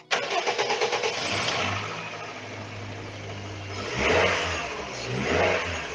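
A car engine cranks with a rapid chugging burst and catches, settling into a steady idle, then revs up twice as the car pulls away, loud and close with no speech.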